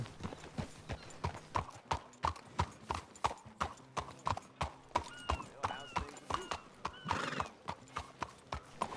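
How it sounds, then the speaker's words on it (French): Horse hooves clip-clopping on cobblestone pavement in the game Red Dead Redemption 2, a steady close rhythmic trot of sharp knocks, with a brief neigh partway through. "Le bruit des sabots sur le pavé, j'adore."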